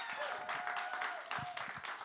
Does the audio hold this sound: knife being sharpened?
no